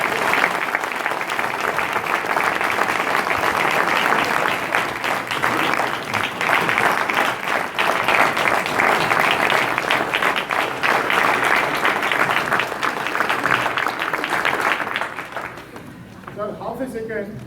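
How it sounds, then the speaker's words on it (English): Audience applause at a stage event, loud and sustained clapping from a large crowd for about fifteen seconds before dying away. "Give me a big round of applause, please."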